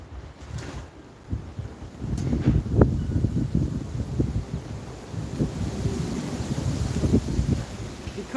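Strong wind gusts outdoors buffet the microphone, a rough, uneven low rumble that swells and dips over several seconds, loud and close with no voices.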